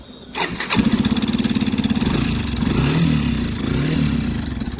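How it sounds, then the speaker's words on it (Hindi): A Yamaha FZ-X motorcycle engine starts with a cranking burst and settles into a loud, rapid rattling idle with pronounced mechanical clatter, steady and close throughout. "FZ-X में जो है ना इंजन का घर्राहट का आवाज़ बहुत ज़्यादा है।"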